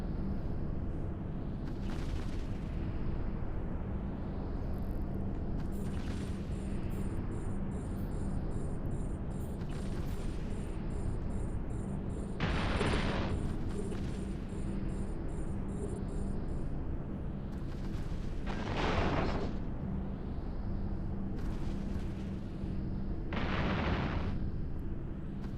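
Space battleship weapons in EVE Online fire in heavy, booming bursts, several spaced blasts rolling over a constant loud engine drone across the stretch, with no voices.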